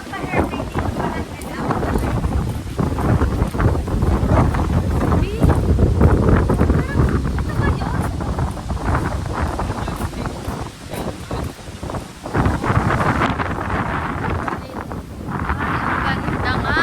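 Strong wind buffets the microphone on Boracay beach, gusting roughly and continuously with surf and waves in the background while people talk.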